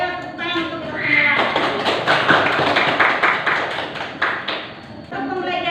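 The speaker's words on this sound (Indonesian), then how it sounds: "Ayo tepuk tangan untuk kita semua" Classroom of students clapping hands together during a maths lesson, a dense burst of applause lasting several seconds before fading, with voices around it at the start and end.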